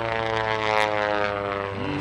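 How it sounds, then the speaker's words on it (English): Interstate Cadet light airplane's propeller engine droning steadily overhead during an aerobatic airshow routine, a sustained harmonic hum rising slightly in pitch toward the end, no talk. "look up in the sky as Kent Pietsch starts his aerobatic routine"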